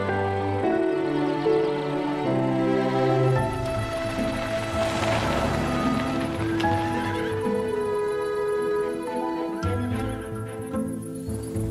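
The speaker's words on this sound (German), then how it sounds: "Habe ich richtig gehört, die Pferde von Mr. Bogle stehen wieder bei uns?" Horses whinny and neigh repeatedly at close range, long quavering calls overlapping one another, with hooves clip-clopping underneath and no talking.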